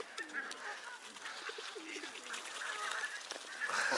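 Pigeons at a waterside bird area give soft, repeated rolling coos close by, over a faint hiss of outdoor background noise.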